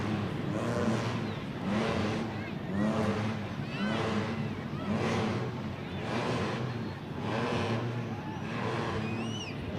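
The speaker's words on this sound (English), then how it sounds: "There's nothing like the sound of a blown injected alcohol motor." Blown, injected alcohol drag racing engine revving at a drag strip, a loud rough roar that swells and dips in repeated pulses, heard from a distance with crowd-like background wash.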